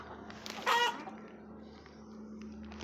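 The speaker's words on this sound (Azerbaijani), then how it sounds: "Cücələr qışqırdı." Chicks crying out, one brief, loud cluster of shrill peeping calls near the start, then fading to a low steady hum in the background.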